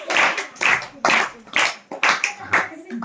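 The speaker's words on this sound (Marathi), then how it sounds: "टाळ्या वाजूया साठी" Schoolchildren and audience clap in six or so distinct, rhythmic bursts, close and loud, roughly twice per second at a school event.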